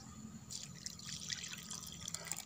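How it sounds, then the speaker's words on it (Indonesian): Water trickles and drips softly into a mixture of shallot and cigarette butts, a faint, steady splashing pour with no voices. "selanjutnya kita kasih air sahabat"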